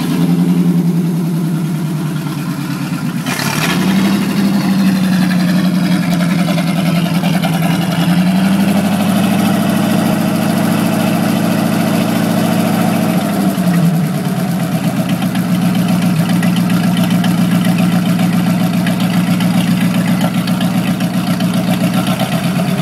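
A flathead engine in a truck idles steadily nearby with a low, even rumble, its pitch rising briefly once or twice before settling back to a smooth idle.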